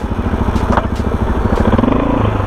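Suzuki DRZ 400 motorcycle engine running close by with a loud, rough, pulsing thump, revving slightly near the end.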